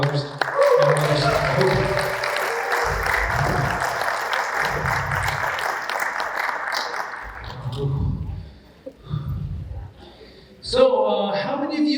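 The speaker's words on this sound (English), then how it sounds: "let's just honor them with a round of applause with our mothers" Applause from a crowd at an American Indian Month celebration honoring mothers, a broad sustained wash of clapping for several seconds that fades out, with voices and music-like tones toward the end.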